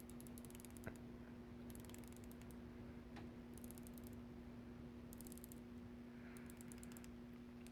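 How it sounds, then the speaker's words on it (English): A Grand Seiko diver's watch bezel is turned, giving faint, crisp clicks from its detents in short bursts. The clicks come in several bursts over a low steady hum, close but quiet, with no voices. "Let's take a look at the bezel action."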